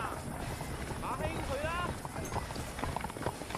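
Horse hooves clip-clopping in Red Dead Redemption, a steady plodding rhythm under wind and ambient outdoor noise, with voices talking over it.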